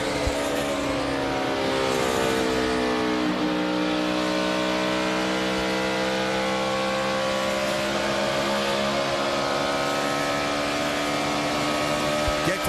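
In-car sound of a NASCAR Sprint Cup stock car at race speed during the 2011 Bank of America 500, a loud, sustained engine roar with shifting pitch as the car accelerates and lifts, continuous throughout.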